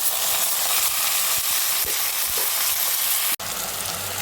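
Cucumber, eggplant and other vegetable pieces sizzle in a pot of mixed vegetable pulusu, a steady close frying hiss with a few soft knocks and a sharp click near the end.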